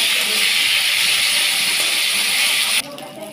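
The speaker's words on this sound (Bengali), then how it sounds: "সেই ফুলকপিগুলো আমি একটু ভেজে নেব।" Cauliflower pieces frying in hot oil with cumin seeds, a loud, continuous close-up sizzle and hiss that drops off sharply near the end.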